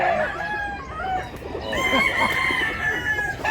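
A rooster crows nearby, with clucking and other fowl calls over steady outdoor background noise, with no talking.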